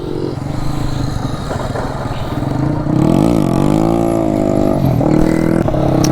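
A Bajaj CT 100 motorcycle engine revs hard and steadily during wheelie stunt practice, its pitch rising and falling as the throttle is worked, loud and close throughout with a rattling mechanical edge.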